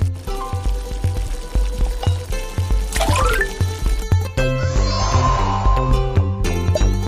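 Gnocchi tipped into a pot of boiling water in a cartoon kitchen: a descending whistle-like swoop, then a bubbly splashing burst, all under steady, bouncy background music.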